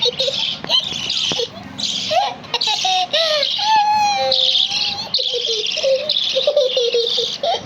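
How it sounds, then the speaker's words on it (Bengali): Two small pet birds chirp and tweet in quick bright bursts close by, with short repeated calls and rising whistles. A person talks softly now and then among the calls. "উড়ে আসছে দেখো পাখি"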